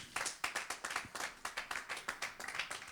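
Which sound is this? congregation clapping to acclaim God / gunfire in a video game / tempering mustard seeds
congregation clapping to acclaim God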